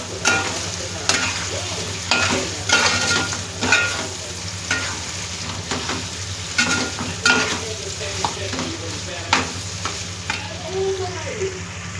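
Mutton pieces frying in hot oil in a pan, a steady sizzle broken by repeated scraping stirs of a spatula, close and fairly loud with no talking.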